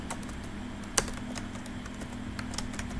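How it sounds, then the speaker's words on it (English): Quiet, steady keystrokes on a computer keyboard while a code comment is typed. Soft irregular clicks run throughout over a low hum, with one sharper key tap standing out. "you just type the documentation prompt"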